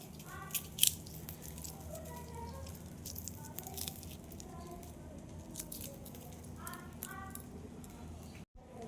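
Cooked pointed gourd and eggplant being mashed by hand with green chillies, giving soft, faint squishing and crunching over several seconds with a few sharper crackles, heard close.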